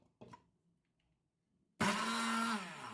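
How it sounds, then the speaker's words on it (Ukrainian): Handheld kitchen blender pureeing chopped tomatoes for zucchini caviar, starting abruptly after a brief clatter and near silence, then a loud, close, steady whirring motor drone that eases slightly toward the end. "тепер перебиваю їх блендером"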